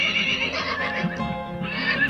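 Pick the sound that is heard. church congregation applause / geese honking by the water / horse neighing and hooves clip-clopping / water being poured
horse neighing and hooves clip-clopping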